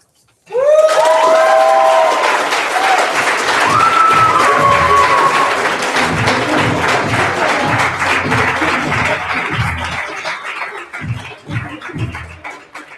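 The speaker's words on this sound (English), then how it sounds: "let's keep those applause going for Elkhorn" Sustained, loud crowd applause and cheering fill a poetry slam performance hall, with whoops and high shouts over steady clapping that thins and fades near the end.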